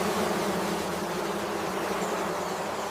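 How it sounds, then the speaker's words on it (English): Giant prehistoric flying insects with wings as wide as a hand buzz in a Triassic landscape, a steady, dense drone holding evenly throughout without pause. "Above, insects with wings as wide as a hand filled the skies."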